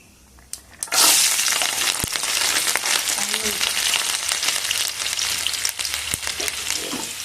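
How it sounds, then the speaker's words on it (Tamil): Mustard seeds crackle and pop in hot oil while tempering tamarind rice, a dense, bright sizzle with sharp scattered pops, close and continuous after a brief quiet start. "ஆயில் சூடாயிடுச்சு நம்ம கடுகு சேர்த்துக்கலாம் கடுகு பொறிஞ்சு அந்த சத்தமெல்லாம் அடங்கினதுக்கு அப்புறம் தான் பூண்டு சேர்த்துக்கலாம்"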